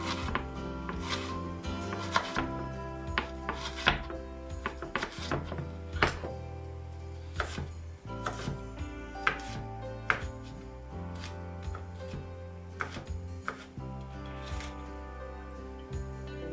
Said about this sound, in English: I'm also chopping my onion.